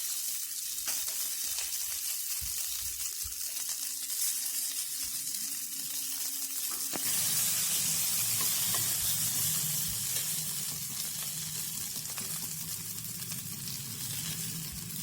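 Roasted onions are refried in a little oil in a pan, giving a steady, close sizzle with stirring scrapes throughout. The frying grows louder and brighter about halfway through and continues without any talk.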